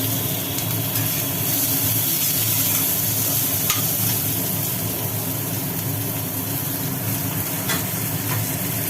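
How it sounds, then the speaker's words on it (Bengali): Bitter gourd slices and onion fry in a pan with a steady, dense sizzle and hiss that runs unbroken for the whole stretch, close and fairly loud, with no voices. "এদিকে উচ্ছে ভাজা চলছে"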